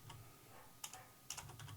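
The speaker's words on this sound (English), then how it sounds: "Who are you typing to?" Brief clusters of key taps on a computer keyboard, soft and close, separated by quiet stretches over a faint room hum.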